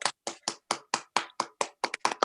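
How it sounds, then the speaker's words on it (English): A small group claps in a steady, evenly spaced beat for a few seconds, crisp hand slaps heard up close with no one speaking. "let's just clap Keith for a few seconds"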